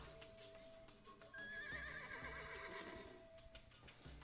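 A horse in the video game Zelda: Echoes of Wisdom gives a clear, drawn-out neigh with a wavering whinny, set against soft hoof clip-clop and faint game music, with no talking.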